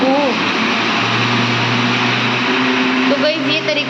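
A mixer blender whirs continuously while making a banana shake, a loud steady motor drone throughout with people talking over it.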